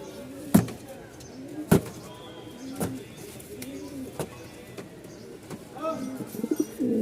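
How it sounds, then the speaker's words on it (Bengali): An Andalusian pigeon coos in short, low repeated phrases, close by, mixed with a few sharp knocks and brief chirps against a quiet room background. "কবুতর কিন্তু সবসময় ডাকতে চায় না, তারপর আপনাদেরকে ডাকগুলো দেখাই"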